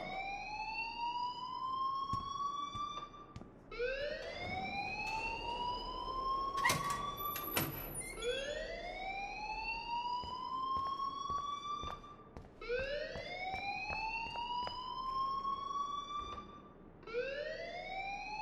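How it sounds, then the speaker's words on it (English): A rising, repeating electronic alarm wails through a scene in the video game Life is Strange, each sweep climbing in pitch and restarting every few seconds, loud and steady with a brief clatter midway. "please turn off that alarm since that's your job"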